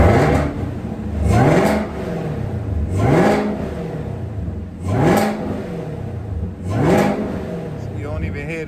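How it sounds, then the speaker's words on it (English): A Chevrolet Camaro ZL1 engine with a cold air intake revs hard four times in a row, each rev climbing sharply then dropping back to idle, loud and close. "let me rev it for y'all. Give y'all a couple revs."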